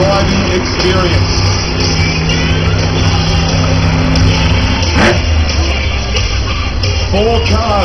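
Monster truck engine revving inside a packed arena at the Brisbane Ekka show, a loud continuous roar with rising surges, while an announcer talks over the noise.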